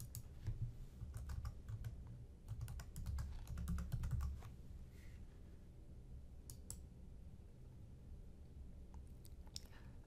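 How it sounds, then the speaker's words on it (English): Keys clatter on a computer keyboard as login credentials are typed in, a steady close run of light clicks with brief pauses over a faint room hum, no voices. "Now put in your login credentials and click Connect."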